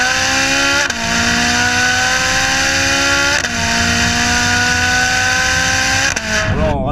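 A Ferrari engine revs loudly and close by, holding a sustained high whine that rises in pitch, with brief dips as the throttle is lifted between pulls.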